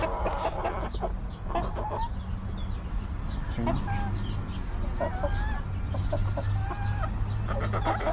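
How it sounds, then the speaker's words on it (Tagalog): Several chickens cluck and make short calls near and far over a steady outdoor background, with occasional rising squawks. "manok natin"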